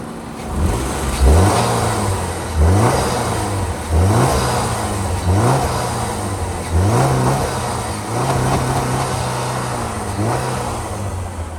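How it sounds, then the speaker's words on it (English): A 2006 Chrysler PT Cruiser GT engine revs up repeatedly, rising in pitch with each push and easing back down, several loud, close revs in a steady rhythm. "Rev it up here a little bit, a little higher RPM,"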